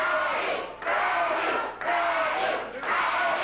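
Roaring crowd at a Memphis championship wrestling match, cheering in three loud surging waves that swell and briefly dip, with shouts rising out of the dense mass of voices.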